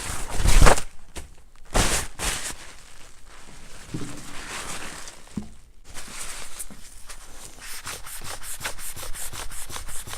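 A rag soaked in denatured alcohol rubs back and forth over a primer coat. The scrubbing is loud, close and rhythmic, with a few louder strokes and brief pauses, and nobody speaks.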